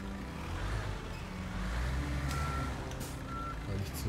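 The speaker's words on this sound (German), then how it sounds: "und koppeln jetzt endlich den LKW an" A truck in the Bau Simulator construction game being coupled to a trailer, with a steady low engine rumble, repeated reversing beeps and brief hissy air releases near the end, without speech.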